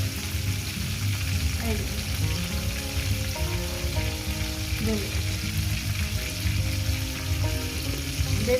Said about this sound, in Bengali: মাছগুলো আমার ভাজা হয়ে গেছে একটু কড়া করে ভাজো না